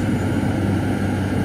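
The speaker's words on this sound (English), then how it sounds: "Tractor's grunting." Tractor engine labouring under load as it drives a big wood chipper, a loud, steady low-pitched drone with a continuous rumble and no talk.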